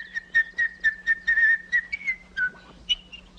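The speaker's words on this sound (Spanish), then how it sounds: "¡He silbado! ¡Me ha salido el chiflido, señor pastor!" A person whistles a short series of shrill, evenly spaced notes, mostly on one pitch, ending with a couple of higher tones.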